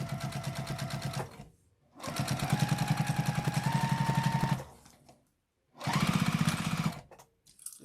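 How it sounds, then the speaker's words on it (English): A sewing machine top stitches a quilted zipper case in three runs of rapid, even mechanical clatter, each stopping briefly before starting again, close and loud with no talk. "I'm going to move my stitch up to a 3 and just pull that lining out and then just top stitch."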